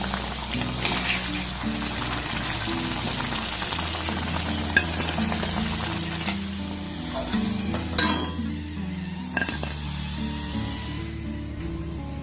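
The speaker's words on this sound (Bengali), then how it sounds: "আর একইভাবে সবগুলোকে আমি ভেজে নেবো" Egg-coated bread slices frying in a pan, a steady sizzle with occasional scrapes and clinks of a utensil, close by and continuous, while quiet music plays throughout.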